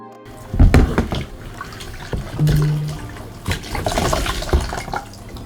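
Tap water runs into a sink while a wig is rinsed with Dawn dish soap, a close, steady splashing and gurgling with irregular bursts as the hair is handled.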